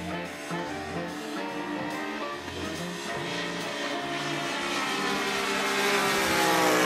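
A P-47 model airplane's engine drones past in a flyby, a buzzing, harmonic-rich whine that swells louder as it approaches, with no voices over it.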